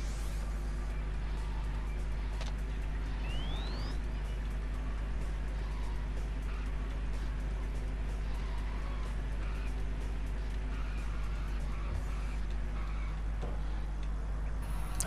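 A racing car's engine in POD Speedzone on the Sega Dreamcast drones steadily and continuously at moderate level, a constant hum with no breaks and no clear talk.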